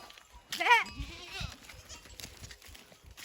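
A goat bleats once with a wavering cry on a village farm, followed by a shorter second bleat, set against outdoor background noise and faint voices.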